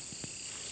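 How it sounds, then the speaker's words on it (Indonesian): Crickets chirping at night in a palm oil plantation, a continuous high-pitched trill that stays steady and fairly soft, with a couple of faint low thumps in the background. "Ya, ini jangkrik yang ada menemani kita nih. Suara-suara jangkrik."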